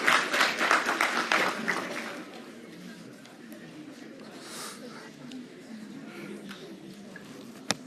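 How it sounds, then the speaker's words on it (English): An audience in a chemistry class applauding: a burst of dense clapping up close at the start that thins out within a couple of seconds, followed by a few scattered claps and a voice talking over low room noise. "Give them a round of applause when they are leaving."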